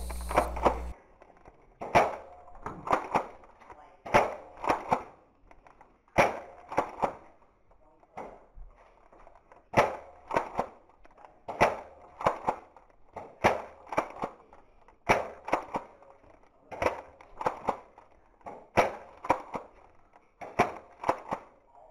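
Foam dart blasters firing repeatedly during an indoor Nerf battle, roughly twenty sharp pops and clacks in an irregular rapid rhythm, close and fairly loud with no talk over them.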